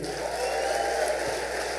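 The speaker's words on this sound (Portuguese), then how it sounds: "Vocês podem aplaudir mais uma vez o Senhor?" A church congregation applauding, a dense, even wash of clapping filling the room throughout.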